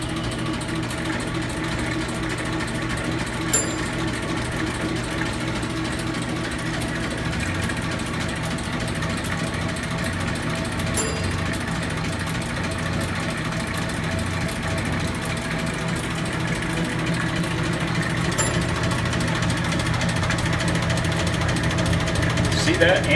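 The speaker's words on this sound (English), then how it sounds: "See that antifreeze flowing? What a beautiful pump. Sounds beautiful." Old gas pump running under load as its triggered nozzle pushes antifreeze through, making a constant motor drone with a faint flowing hiss; the level stays steady, rising slightly toward the end, and no voice is heard.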